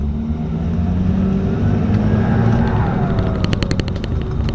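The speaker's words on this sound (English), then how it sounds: "The turbo gives more of like a little high-pitched, faint whine to it now." A turbocharged car under way on a test drive after a new intake is fitted, its engine droning steadily while a faint, high-pitched turbo whine rises over it, with thin repeating tones toward the end.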